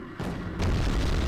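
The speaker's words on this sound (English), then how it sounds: "hopefully this bomb does a good amount of damage" A bomb explodes in the military strategy game Wargame Airland Battle, a deep broadband boom that swells in two stages into a loud, sustained rumbling roar with no voices over it.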